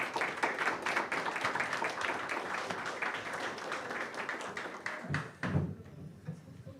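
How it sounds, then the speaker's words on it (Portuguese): Audience applause at a live finance talk event, a dense run of clapping lasting about five seconds before fading into a few scattered claps and room noise. "E uma salva de palmas para o melhor analista do país."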